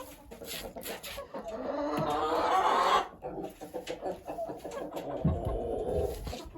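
Marans chickens clucking and fussing close by, with a Marans rooster's call rising over the flock for a few seconds before the clucking settles back.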